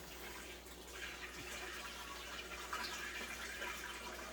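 Water pours from a bucket into a 75-gallon fish tank, a steady, soft rushing and splashing that continues evenly throughout, quiet and close.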